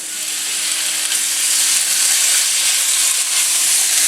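Cut-down pork chops with garlic and ginger frying in a hot pan for pork fried rice, a steady bright sizzle running continuously and fairly loud with no talking.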